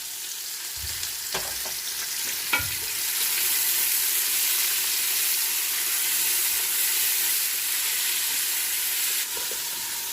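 Sliced onions hit hot oil for a fish dum biryani: a couple of utensil clinks, then a loud, steady sizzle and hiss that holds close and even for several seconds, with no talking.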